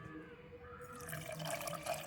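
Water poured into salted mango pickle in a container gives a soft, steady trickling splash that builds slightly over two seconds, fairly quiet and close.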